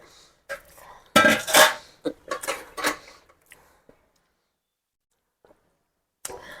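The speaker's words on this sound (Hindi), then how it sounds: "देखिए आज प्लेट मुझसे गिर गई, ये टूट गई।" A ceramic plate clatters and breaks with sharp clinks and rattling, settling into a few faint taps before one last clink.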